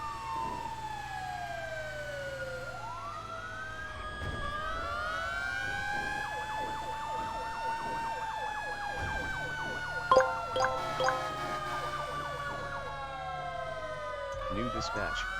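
Emergency vehicle sirens from a responding fire engine, ladder truck and medic unit, several wailing tones rising and falling and overlapping throughout, with horn blasts and low engine rumble underneath.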